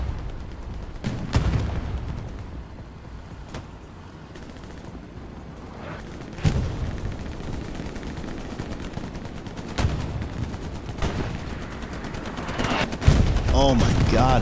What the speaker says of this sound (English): Oh my God, that artillery.